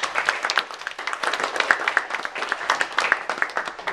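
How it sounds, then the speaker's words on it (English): Audience applause at a business plan presentation event, a steady patter of many hands clapping close and moderately loud through the whole stretch, with no talk over it. "Let's give them a round of applause."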